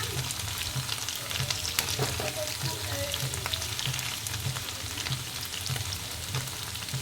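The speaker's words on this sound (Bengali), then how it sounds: "এই আলুটা একটু এইভাবে ভেজে নিলে ভালো টেস্ট হয় চিলির জন্য" Salted potato pieces fry in hot oil in a pan for aloo chilli, a steady dense sizzle running the whole time with occasional stirring scrapes and pops, close and continuous, with no talking.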